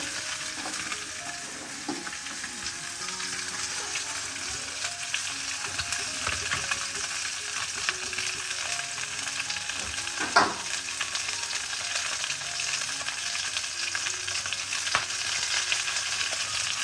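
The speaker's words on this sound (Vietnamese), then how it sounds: "Bây giờ á thì đem ra chiên cá luôn." Fish fries in a pan of oil just used for stir-frying peanuts, giving a steady, dense crackling sizzle throughout with occasional sharper pops and no talking.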